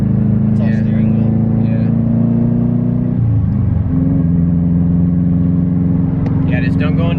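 A Subaru WRX with a Stage 2+ setup idles rough after its battery was disconnected, a loud steady low engine drone that dips in pitch midway, with brief voices talking over it.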